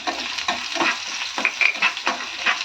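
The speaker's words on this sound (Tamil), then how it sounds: "இதை கொஞ்சம் நல்லா வதக்கிக்கலாம் லைட்டாக." Cashew nuts and green chillies are sautéed in a hot pan for a curd semiya dish, with a steady sizzle and close scraping stir strokes repeating every half second or so.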